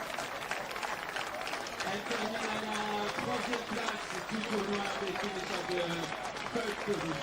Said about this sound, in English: make some noise, some applause